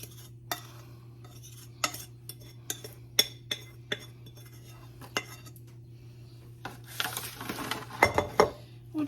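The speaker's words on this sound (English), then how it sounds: "We'll just smooth this out in the pan" Utensil scraping and clinking against a baking pan as a chicken biscuit casserole mixture is smoothed out, giving scattered sharp taps at first and then a busier cluster of scrapes and clinks near the end over a steady low hum.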